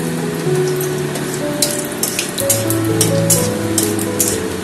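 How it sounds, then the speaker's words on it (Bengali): Dry red chilli and nigella seeds fry in hot oil as a tempering, a steady loud crackling sizzle with scattered sharp pops, heard close up and alone. "দিয়ে দেবো হাফ টুকরো শুকনো লঙ্কা ফোড়ন এটা পুরোটাই অপশনাল আর দিয়ে দেবো কালো জিরে ফোড়ন"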